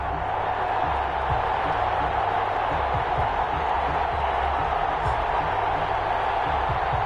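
A stadium crowd roars steadily before a football game between the Orlando Sentinels and the Houston Voyagers, a broad, continuous wash of cheering with faint talk underneath.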